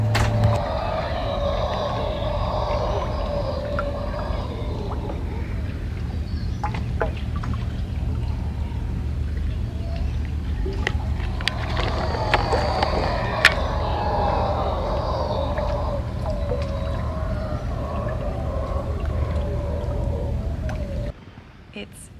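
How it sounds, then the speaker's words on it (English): Howler monkeys call from the jungle surrounding Gatun Lake, long eerie moaning roars rising and falling at a distance over a steady low engine-like drone, continuing for about twenty seconds before cutting off. "listening to the eerie sounds of howler monkeys in the surrounding jungle of Gatun Lake"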